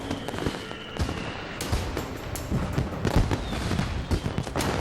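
Fireworks crackle and bang in a rapid, irregular series of sharp bursts and low booms, continuous and fairly loud, with no speech.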